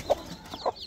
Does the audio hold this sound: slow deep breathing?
no